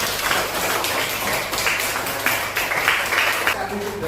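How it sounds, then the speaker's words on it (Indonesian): Classroom applause for a student, a steady patter of many hands clapping together for a few seconds, fairly close, with voices mixed in. "tepuk tangan buat Mas Rizal."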